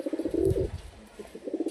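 Flying pigeons kept in a small loft coo in low, throaty rolling bursts, one near call, a pause with faint rustling, then another cooing phrase.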